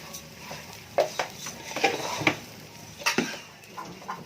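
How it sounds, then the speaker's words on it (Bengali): Rice for biryani fried and stirred in a pot gives a string of close metallic scrapes and clinks from a spatula against the pot, irregular and moderately loud over a faint frying hiss. "তো এখন চালটাকে একটু ভালো মতো ভেজে নিতেছি আর কি"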